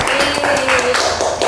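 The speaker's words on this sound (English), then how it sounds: "Give applause for our Satya." Students clap for a classmate in a classroom, a short burst of close, uneven handclaps mixed with a few brief voices.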